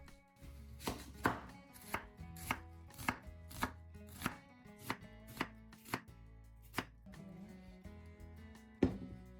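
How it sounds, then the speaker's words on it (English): A knife slices an onion into thick pieces on a cutting board, a steady run of about a dozen crisp, evenly spaced chops, close and clear with no talk. "peel it, slice it into slightly thick pieces, and place them into a bowl"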